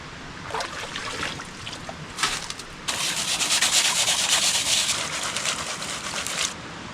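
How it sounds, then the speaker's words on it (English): Panning for gold in a mountain stream: gravel and water swirled in a pan, scraping and rushing in uneven bursts that swell into a louder, sustained sloshing hiss before easing off. "Let's try another pan."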